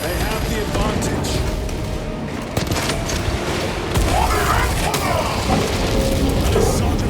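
Terminators open fire in the video game Space Marine 2, with rapid bursts of heavy gunfire and booming impacts rolling close and loud across the fight while soldiers' voices call out over the din.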